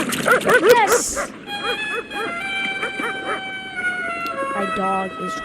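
A dog whimpers and yips in rapid high-pitched bursts early on, then softer whines continue under sustained musical tones and film sound.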